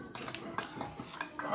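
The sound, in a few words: mixing semolina and flour in a bowl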